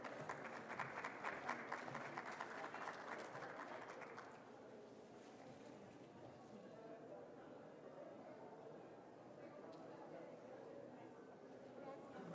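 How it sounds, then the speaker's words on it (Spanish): Audience clapping at a nursing conference, a dense patter of many hands for about four seconds, then fading into a low murmur of chatter. "Un aplauso, por favor."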